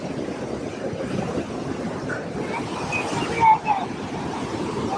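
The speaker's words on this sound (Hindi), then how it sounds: "यहाँ नदी बह रही है मस्त एकदम" A river rushes beside the hot springs at Manikaran, giving a continuous broadband roar of flowing water with some wind buffeting and a brief louder surge near the end.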